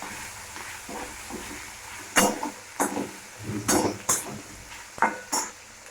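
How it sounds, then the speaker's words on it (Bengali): Ginger frying in a pan for bitter dal, a soft sizzle under a series of sharp scraping and clinking strokes of a utensil against the pan, irregular and close by. "আদাটাকে আমরা একটু মিশিয়ে নেবো, ভেজে নেবো।"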